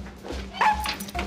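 A dog in a German TV film gives short, close yips and whimpers rather than full barks, over quiet room noise.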